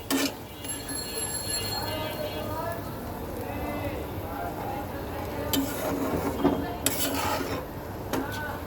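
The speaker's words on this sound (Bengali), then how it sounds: "এখন মশলাটা সুন্দর করে মিক্সড করে দিচ্ছি" Spoon scraping and clinking around a pan while masala is stirred and mixed for a pabda fish curry with potato and eggplant, with irregular rasping strokes and sharp metallic knocks under a talking voice.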